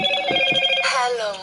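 A telephone rings in a Sherlock Holmes video game, a repeating electronic ring close up with a voice briefly over it.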